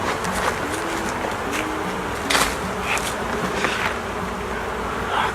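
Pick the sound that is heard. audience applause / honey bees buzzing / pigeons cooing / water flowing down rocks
honey bees buzzing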